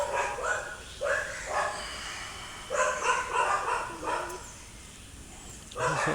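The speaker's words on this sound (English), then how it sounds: "Excuse the dogs." Dogs bark in short repeated bursts during a quiet indoor morning stretching session, the barks moderately near and spaced irregularly, with faint background between them.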